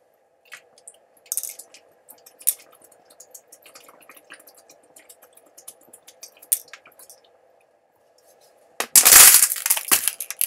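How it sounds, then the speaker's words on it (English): Someone drinks Vita Coco pineapple coconut water with faint, scattered sips and soft liquid swallows in a quiet room, ending in a sudden loud, noisy burst. "I'm going to drink this now."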